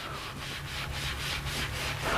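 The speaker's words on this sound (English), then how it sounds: "you want to wipe that off pretty quickly" A microfiber cloth wiping ceramic coating off a car wheel, heard as a close run of even, rhythmic rubbing strokes with no voices.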